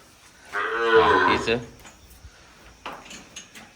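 A single loud, drawn-out Gir cow moo rises close by on a cattle farm and lasts about a second, followed by quieter shuffling and faint voices.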